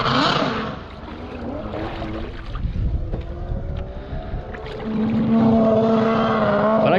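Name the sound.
SeaRat jet ski engine running on water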